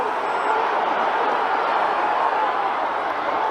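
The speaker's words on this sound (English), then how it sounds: "The crowd starting to rise here" Crowd at a Gaelic football match, a dense, steady roar of many voices filling the stands, loud and sustained without clear peaks.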